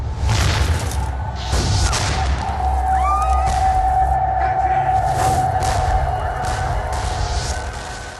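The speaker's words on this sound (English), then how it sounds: "On July 12th, 2 British warships opened fire on New York City." Cannon fire from two British warships bombarding New York City, heavy deep rumbling booms rolling continuously beneath a dramatized soundscape with a faint whooshing tone, loud and sustained throughout.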